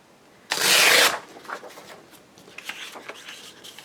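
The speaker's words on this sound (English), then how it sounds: "let's just tear a piece of this" A single sheet of paper torn in one long rip to about card size during a craft session, loud and close, followed by quieter rustling and handling noises.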